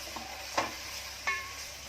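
Onions drop into hot oil for a Konkani-style prawn pulao and sizzle, with two sharp bursts of hissing spatter as they're stirred, over a low steady fry.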